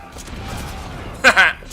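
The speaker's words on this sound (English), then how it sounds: "where am I getting shot from?" Gunfire in the PS4 game Metal Gear Solid 5: Ground Zeroes comes as two quick, loud bursts of shots close together near the end, over a low, rumbling game ambience.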